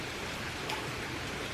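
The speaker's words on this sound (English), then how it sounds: "It's raining." Steady rain falls outdoors in San Francisco, a dense, even hiss of drops on surfaces that fills the scene without pause, fairly loud and close.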